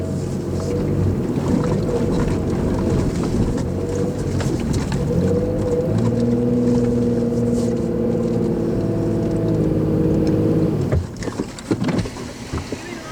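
A 4WD stuck in Simpson Desert sand revs its engine hard, a loud, straining drone that rises in tone for several seconds and then cuts out, followed by wind noise and a few knocks.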